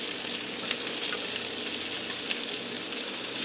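Salisbury steaks sizzle in onion gravy in a pan, giving a steady, close frying hiss with a few sharper pops and a faint bubbling undertone throughout.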